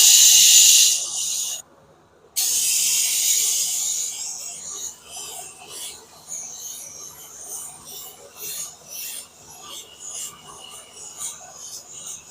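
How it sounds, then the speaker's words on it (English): Blending solvent sprayed from an aerosol can onto fresh clear coat on a Tesla wheel during curb rash repair, a loud close hiss in two bursts at the start, then quieter rubbing and shuffling. "use the blender to blend the new clear with the old"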